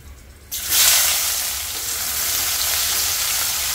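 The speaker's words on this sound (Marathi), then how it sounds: "कांदा छान परतून घेऊया." Onion goes into a hot pan for sautéing: a sudden loud burst of sizzling after a quiet half-second, then a steady, close crackle that eases only slightly and carries on alone.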